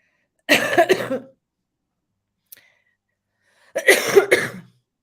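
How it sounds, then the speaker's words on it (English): Two close coughing fits separated by a quiet pause, each a quick burst of harsh coughs, with a tiny click in between. "I'm sorry for the cough."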